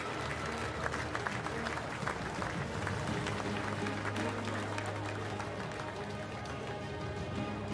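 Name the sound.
crowd applauding medalists at velodrome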